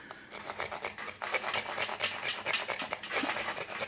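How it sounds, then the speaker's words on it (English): A knife blade scraping tiny shavings off a piece of lighter wood, a steady dry rasping with quick repeated strokes, close and fairly loud, with no talking. "if you have something like lighter wood right here, you can scrape some real tiny pieces off of it"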